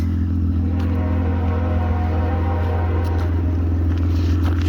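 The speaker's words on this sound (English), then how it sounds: "It's got a louder exhaust. I think you can hear that." The loud exhaust of a 2003 Hyundai Tiburon idles close by in a deep, steady drone that holds for several seconds, with no talking over it.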